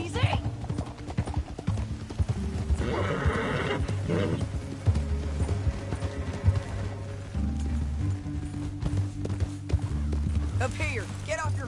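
Horses in the Red Dead Redemption western video game clip-clop along at a steady pace with loud, close hoofbeats, while several whinnies and neighs break out and game music plays underneath.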